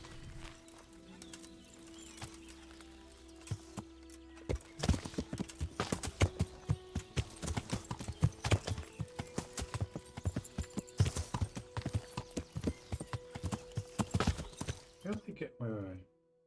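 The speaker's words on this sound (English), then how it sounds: "Gotta get my horse." Horse hooves clip-clop in a quick, steady rhythm close by, a long run of hard knocks alongside a held musical tone and talking.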